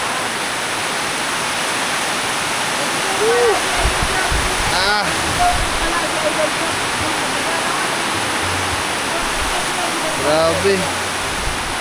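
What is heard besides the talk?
heavy typhoon rain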